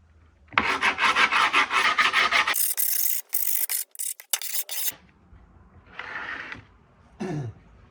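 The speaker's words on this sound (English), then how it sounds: "So instead of a file, I've been using this old 215 that's like been broken." Harsh rasping strokes of filing with an old cracked, broken skateboard deck used as a file, loud and close, a long continuous burst, then choppy strokes, then two shorter scrapes after a pause.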